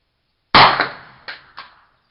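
A Kel Tec Sub 2000 9mm carbine fires at a 50-yard range: one sharp, loud shot, then two quicker, slightly weaker shots, each with a short fading ring in an otherwise quiet outdoor setting.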